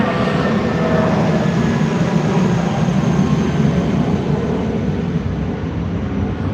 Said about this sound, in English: every time the plane passes over